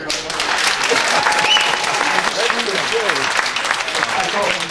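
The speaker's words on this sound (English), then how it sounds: "How many people here on a show of hands or by applause thinks he's not conservative enough?" A political debate audience breaks into sustained, dense applause that holds steady throughout, with some voices mixed into the crowd noise.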